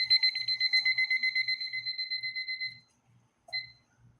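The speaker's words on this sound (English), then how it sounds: "We're gonna set the timer." An electronic timer beeps in a fast, steady, close run of high tones, stops, then gives one short final chirp.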